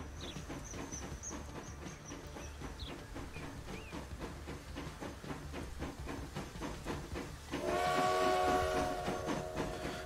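Trains running in the transport simulation game Transport Fever 2, a steady rumbling rail clatter with repeated rhythmic clicks, a faint hiss, and a louder tonal whistle-like swell near the end.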